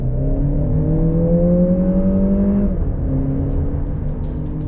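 A 2023 Lexus RX plays its simulated engine sound, a loud steady whine that climbs in pitch as the revs rise, then drops suddenly and settles at a lower, even tone.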